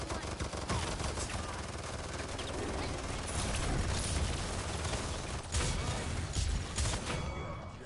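Rapid automatic gunfire from the Paladins hero shooter game, a loud, dense stream of shots running almost the whole time with a few sharper bursts, no talk over it.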